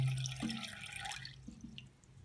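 Water drips and trickles into a leaking toilet tank, with a few small splashes and a low hum underneath, close by, gradually quieting toward the end.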